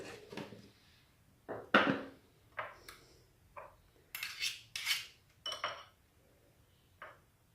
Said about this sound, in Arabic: صافي كنخلطوا الصلصه ديالنا مزيان